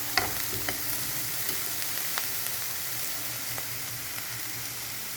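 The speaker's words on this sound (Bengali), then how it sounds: "কড়াই অল্প তেল দিলেই হবে, যাতে পেঁয়াজ রসুনটা একটু ভাজা হয়" Onion and garlic fry in a little oil in a wok, giving a steady, close sizzle throughout, broken by a few soft scrapes and taps of stirring.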